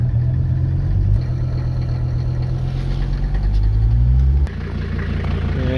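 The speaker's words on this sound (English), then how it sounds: "Alright, idling pretty low" A car engine idles low and close by during a New Hampshire blizzard, a deep, steady rumble whose pitch shifts slightly before dropping to a quieter idle near the end.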